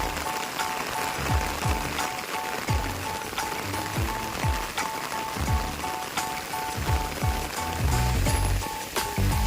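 Heavy rain pours steadily at the Dhauli Shanti Stupa, a hilltop Buddhist site, with a dense, continuous hiss and scattered sharper drips and knocks throughout, loud and unbroken for the whole stretch.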